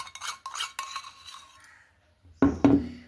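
A utensil stirs cake batter with baking soda in a bowl, making bright metallic clinks against the bowl in short bursts with a quiet gap between them, close up.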